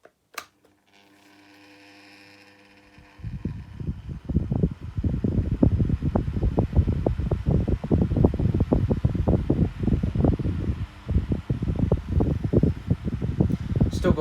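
A Pifco 7-inch electric fan switches on with a click and spins up into a steady, close whirring drone with rhythmic fluttering buffets that continues to the end.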